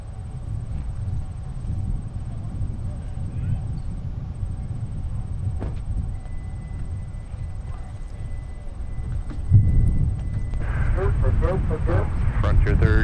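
A Flexjet business jet touches down at Minneapolis–St. Paul airport, a low, steady engine rumble swelling near the end with a brief rising whine, heard from a distance over air traffic radio chatter.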